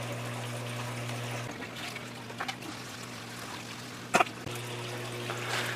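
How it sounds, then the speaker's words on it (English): Water trickling steadily as it drains from a flatback hex aquarium filter, a soft continuous flow over a steady hum, with a couple of brief clicks. "I need to go through and drain out that 3 inches of water"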